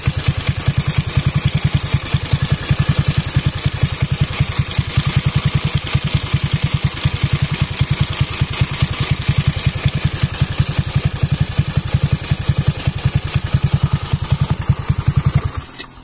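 Loud, close idle of a bore-up 130cc carbureted Honda Beat motorcycle engine, a steady fast throbbing beat with mechanical clatter that keeps running before cutting off at the end.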